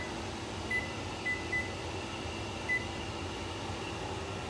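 A kitchen timer being set beside a pot of mac and cheese cooking on the stove gives four short, faint electronic beeps over a steady hum of kitchen background noise.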